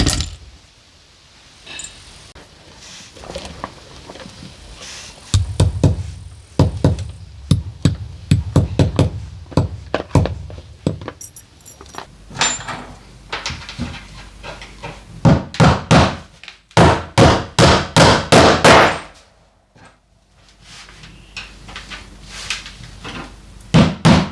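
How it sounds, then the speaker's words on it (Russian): Nails hammered into tin sheet on a rural homestead: loud metallic knocks and dull thuds in irregular bursts, some in quick runs, separated by short pauses, close by. "А тут вот даже банально ту же жесть прибить, гвоздя нет, равняешь их."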